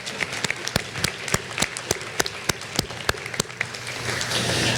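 A crowd applauds at a senior awards ceremony for the class of 2023, with a diffuse patter of many hands and one nearby clapper adding sharp, regular slaps above it, swelling slightly toward the end.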